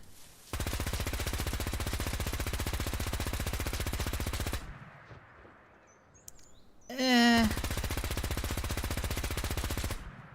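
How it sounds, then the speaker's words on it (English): A Laser P90 in Fallout 4 fires two long, rapid, buzzing automatic bursts separated by a short pause containing a rising warbling electronic whine, loud and close. "The Laser P90."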